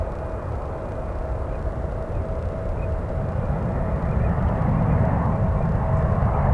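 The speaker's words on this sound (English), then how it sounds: "United 737 coming in hot." A United Airlines Boeing 737 landing at San Francisco airport, its engines a steady broad roar that slowly grows louder, with no talk over it.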